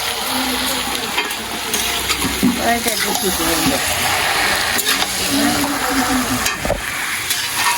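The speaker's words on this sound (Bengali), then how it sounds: "তোমরা দেখতে পারো মাছের ডিম ফ্রাই হয়ে গেছে" Fish roe fries in a pan, Sylheti village style, giving a loud, continuous crackling sizzle close up with stirring scrapes, while a voice talks over it at times.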